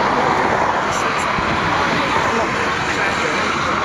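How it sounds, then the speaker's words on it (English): Heavy road traffic on the A12 beside a rockabilly social meet-up, a constant loud rushing roar of passing vehicles with no break, filling the whole stretch. "Excuse the noise, we're very noisy traffic on the A12."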